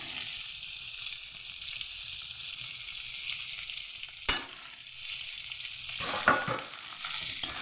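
Eggplant frying in a pan with onion, ginger and chilli, a continuous bright hiss of hot oil throughout, broken by a sharp clack midway and a few spatula knocks and scrapes toward the end.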